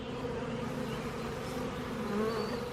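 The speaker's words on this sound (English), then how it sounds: "They are slowly starting to make it into the hive. This is not a big box of bees." Honey bees drone around a hive in a dense, steady buzz that stays close and even throughout, with no voices.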